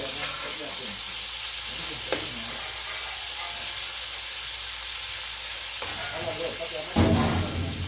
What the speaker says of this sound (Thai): หายไปไหนหมดจับทอดสดๆเลย